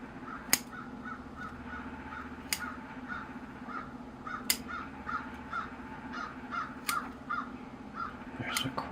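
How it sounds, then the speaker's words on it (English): A crow flies past outdoors and caws repeatedly at an irregular pace, clear and moderately close, over a quiet background. "There's a crow going by."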